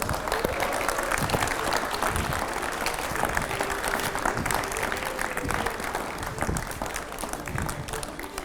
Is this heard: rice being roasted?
no